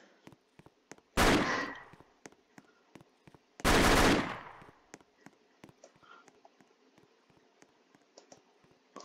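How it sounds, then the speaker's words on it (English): Enemy gunfire in a video game sounds as two loud bursts of shots, close and harsh, each lasting under a second, with scattered soft clicks between them and no talk. "Now she's shooting."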